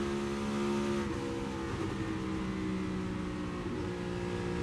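A NASCAR Cup Series race car during the Coca-Cola 600 loudly drones in a steady engine roar that eases as the driver lifts hard off the throttle, heard up close with no speech.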